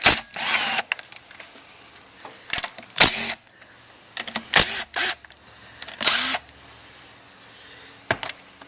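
Small 10mm bolts coming off the oil pump of a Honda 300 Fourtrax ATV, with bursts of a ratcheting power tool and clicky metal handling, close and intermittent with quiet gaps between.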